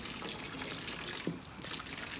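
Water runs steadily from a garden hose outdoors, a continuous close trickle and splash with a brief louder gush partway through; no talking.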